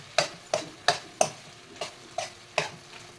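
Pumpkin gravy with peanut powder is sautéed in a pan, heard as about seven evenly spaced spoon-stirring strokes over a soft, quiet sizzle, close by with no talking.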